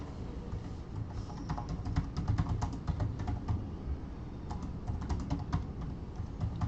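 Rapid typing on a computer keyboard, close and steady, with bursts of clustered keystrokes and brief pauses, no voices over it.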